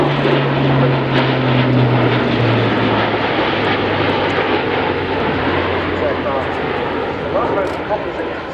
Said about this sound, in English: The aircraft now positioning for a short landing.